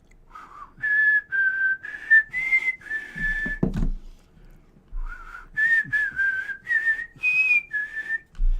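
A person whistles a simple tune in two phrases of short, clear notes, close and alone, separated by a brief breathy pause.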